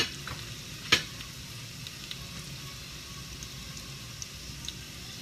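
Onions frying in a pan with a steady close sizzle, broken by a sharp scrape of stirring near the start and a few faint clicks later.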